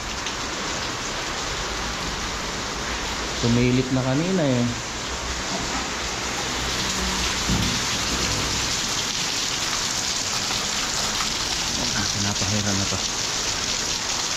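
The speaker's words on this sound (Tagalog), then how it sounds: "Ulan na naman." Steady rain hisses and patters throughout, with a person speaking briefly over it.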